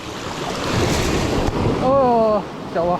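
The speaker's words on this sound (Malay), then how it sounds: "Tinggi dia ombak." High sea waves surge and wash at a fishing spot on the coast, with rushing surf and wind buffeting the microphone, while voices call out briefly over the water.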